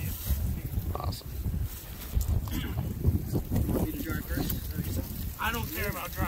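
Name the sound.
strong wind on microphone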